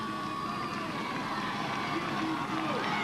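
A French roadside crowd cheers and roars steadily for stage winner Arthur Vichot at the Critérium du Dauphiné stage 6 finish in Morzine, a continuous distant wash of voices, fairly faint throughout.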